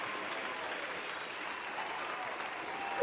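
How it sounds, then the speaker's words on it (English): A crowd claps steadily for a few seconds, a warm, even wash of applause with no voices over it. "Give you another round of applause there from the"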